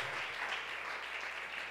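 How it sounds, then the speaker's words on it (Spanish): Steady, dense applause fills a church service for a short stretch, a continuous wash of clapping from a congregation with no talk over it. "Dale ese aplauso fuerte al Señor de gloria."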